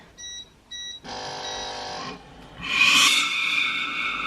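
Two short electronic beeps from a steam iron during descaling, then a longer sustained tone, followed by a rising hiss of steam venting close by.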